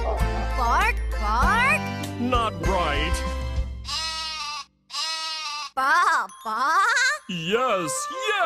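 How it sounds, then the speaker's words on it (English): Sheep bleat in a children's farm song, a series of wavering, quavering bleats over a backing tune with faint jingling and a voice, several calls in quick succession, close and clear. "Oh, there's my sheep!"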